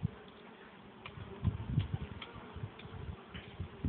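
Honeybees fly around the entrance of a hive at an apiary, a continuous low buzzing drone with small ticks and knocks, close by and fairly quiet, with no one talking.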